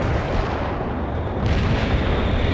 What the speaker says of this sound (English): Commencing the barrage.